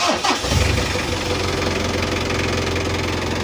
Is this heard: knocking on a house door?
no